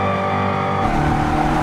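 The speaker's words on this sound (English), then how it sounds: "Dodge gave us an electric car that sounds like a video game" A synthetic, engine-like sound from a Dodge Charger Daytona EV electric muscle car hums steadily with layered tonal drones, swelling slightly louder partway through, with no talking.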